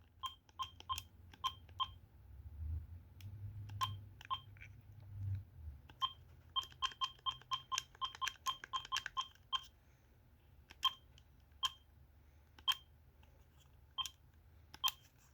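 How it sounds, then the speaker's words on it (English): Button tones come from the handset of an AT&T TL76108 cordless phone, a series of quiet dialing beeps. Some are pressed singly, then a rapid run of beeps follows, and the presses grow sparse again toward the end. "Let's go ahead and test out all the buttons on the handset."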